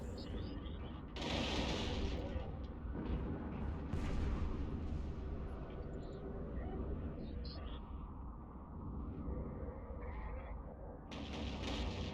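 Ship weapons in the space game EvE Online fire in heavy, booming repeated volleys, with rumbling blasts layered under background music and effects.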